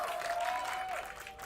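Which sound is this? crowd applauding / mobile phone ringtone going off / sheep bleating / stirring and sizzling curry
crowd applauding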